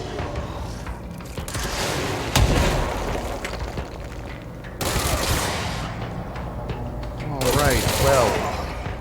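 Full-auto weapon fire in the game Control comes in bursts of rapid machine-gun shots, loud and close, with booming impacts between volleys and a voice talking over the action.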